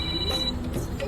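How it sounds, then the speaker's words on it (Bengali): A phone rings briefly during an outing on a rainy day, a thin high electronic tone standing over low background murmur in a short burst. "কি তোমার ফোন বাজছে"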